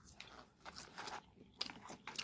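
Close, quiet crunching and chewing of Wendy's crispy sea-salt fries with the potato skin on, several distinct crisp bites and mouth sounds in a short, intimate sequence.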